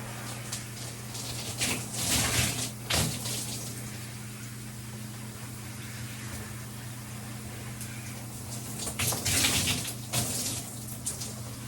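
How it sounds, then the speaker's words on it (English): Running water streams steadily while shampoo is rinsed out of curly hair, with a constant low hum underneath and a few louder splashing bursts as hands work through the scalp. "Scrubbing my scalp as that water rinses out the shampoo."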